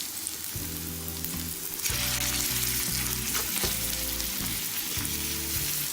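Chicken pieces sizzle with browned onions on a hot tawa, a loud continuous close frying hiss under a low steady hum, with no talking.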